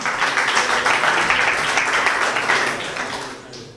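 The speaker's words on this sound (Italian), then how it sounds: "Un grosso applauso ancora per Lidano Caiola." Audience applause at a futsal awards day in Italy, with dense, steady clapping throughout that fades slightly near the end.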